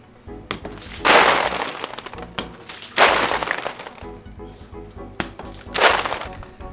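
Tempered window glass from an old, rusty vehicle frame shatters in three loud, separate bursts of crashing, tinkling fragments, with brief quieter gaps between each smash.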